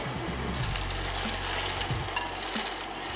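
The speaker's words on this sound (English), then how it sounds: "Now we're going to put our beans into a pot of boiling water." Bubbling, sizzling noise fills the clip steadily as black beans are dropped into a pot of boiling water, with a few soft knocks underneath and no talking.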